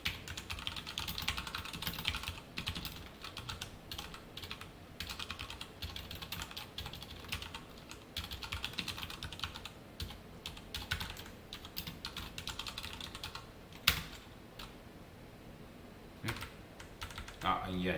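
Java code being typed on a computer keyboard, a steady run of close, crisp key clicks with short pauses and a couple of louder taps, over a faint background.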